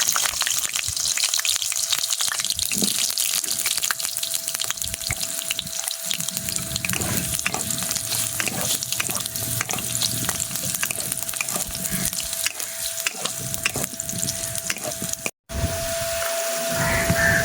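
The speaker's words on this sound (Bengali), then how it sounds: "আলুগুলো আমার বেশ লাল লাল করে প্রায় ভাজা হয়ে গেছে" Potatoes frying in oil, a loud steady sizzle and crackle up close, with occasional scraping stirs and a short break near the end.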